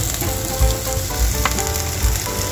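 Sliced onion fries in a hot oiled pan for a bean-sprout lumpia filling, a close, steady sizzle with a few soft stirring knocks, no talking.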